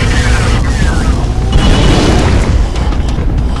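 A cannon firing in the Area 51 video game, a heavy boom that fills the clip with loud, dense low rumble and sweeping whine above it, continuous and close throughout.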